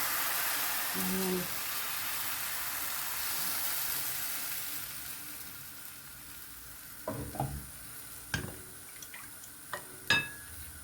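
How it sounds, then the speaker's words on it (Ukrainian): Soft frying sizzle of crepe batter in a hot oiled pan fills the background while a few light clinks and taps of utensils ring out near the end. "Нагрілася сковорідка, я її змастила маслом і виливаю."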